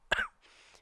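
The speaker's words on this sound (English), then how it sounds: "I laughed so hard at my own joke I started coughing" A single sharp, throaty cough comes right after laughing, close and loud, followed by a faint breathy exhale in otherwise quiet surroundings.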